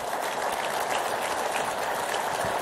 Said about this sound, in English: I'd like to give Mr. Lell an applause.